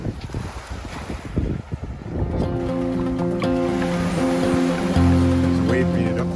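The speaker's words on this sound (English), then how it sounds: "The wave made it up pretty far." Waves wash onto a sandy Lake Huron beach in spring, a broad rushing swell under heavy wind buffeting, with a steady droning hum rising in the latter half.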